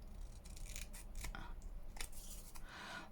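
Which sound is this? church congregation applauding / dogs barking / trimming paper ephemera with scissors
trimming paper ephemera with scissors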